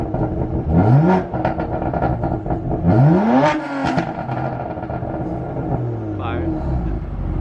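A car with an Active Autowerke equal length mid pipe and exhaust valves open revs in rising sweeps, two sharp blips then a longer climb and fall, loud and close, with people talking nearby.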